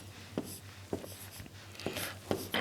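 Short scratchy strokes of chalk or marker writing on a board come in quick bursts with brief pauses, close and fairly quiet, with no speech.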